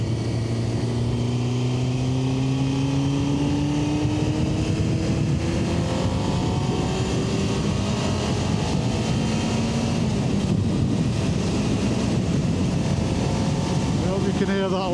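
Honda CBR600F motorcycle engine droning steadily with rising pitch as it accelerates, buried under constant loud wind rush on an open road, heard continuously from the rider's position.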